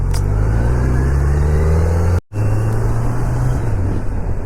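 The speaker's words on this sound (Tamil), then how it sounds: "ரோடு கொஞ்சம் டிராஃபிக்காக, அப்படியே நிறைய வண்டி வாகனங்கள்லாம் வந்துட்டு போயிட்டு இப்படி தான் இருக்கும்" Engine drone while riding a Kawasaki Z900 motorcycle on a traffic-filled road, a loud steady hum with shifting pitch and a brief dropout midway, no talk.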